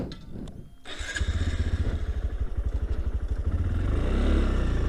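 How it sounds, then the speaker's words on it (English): A motorcycle rides along, its engine chugging in a steady rapid pulse that builds and holds loud and close after a brief dip near the start, with no talking. "let's get back on the bike and ride a little bit more"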